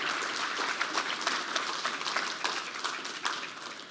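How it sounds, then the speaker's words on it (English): Audience applause at a tech company keynote livestream, a steady dense wash of many hands clapping throughout, moderately loud and with no talking over it. "Let's give a round of applause one more time here."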